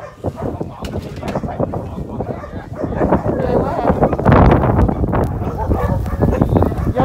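A pack of sled dogs at a snowy mountain sled-ride camp barks repeatedly nearby in a busy, overlapping chorus with whimpers and yips, mixed with wind noise and people talking.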